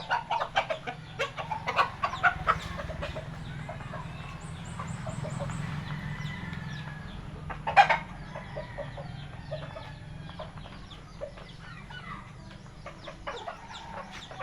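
Farm chickens cluck softly and scattered, fairly close, with one louder squawk partway through over a low outdoor hum. There is no talk.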